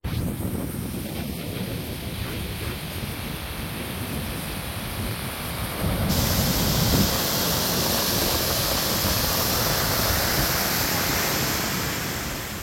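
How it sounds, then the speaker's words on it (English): A waterfall along a rocky, slippery hiking trail gives a steady, dense rushing roar that swells louder about halfway through and stays constant, with no voices. "More waterfalls, that's why."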